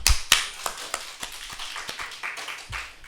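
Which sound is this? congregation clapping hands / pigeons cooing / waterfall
congregation clapping hands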